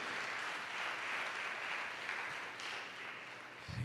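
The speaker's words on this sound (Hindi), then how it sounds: "जोरदार ताली बजाएं खुदावन के लिए" Sustained applause from a church congregation, steady and fairly loud throughout, with a brief low thump near the end.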